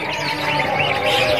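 Many small caged songbirds chirp and twitter at once in a bird shop, a dense, continuous chorus close by, with a busy background hum.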